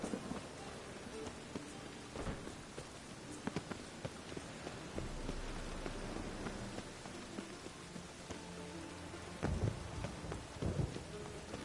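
Steady rain in the video game The Witcher 3, a dense hiss of falling rain across a city, with low rolling rumbles of thunder building and a heavier crack near the end.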